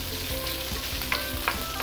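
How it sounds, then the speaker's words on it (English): Pork fat for Singapore Hokkien prawn mee is stir-fried in a wok, rendering in hot oil with a continuous close sizzle and scattered scraping stir strokes. "we have to keep on stir-frying it like this"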